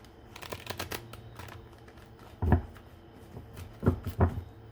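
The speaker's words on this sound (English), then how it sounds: "So let me give this a quick shuffle." Close rapid flicking and riffling of large oversized cards, with a few heavier thumps as the deck is bridged and squared.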